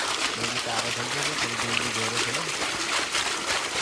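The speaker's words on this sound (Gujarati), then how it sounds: "એક નંબર પાણી આવે છે આ કાકા ઘઉંમાં પાણી વાળતા હતા" Irrigation water flows steadily into a wheat field, a continuous close trickling gurgle running under a voice that speaks throughout.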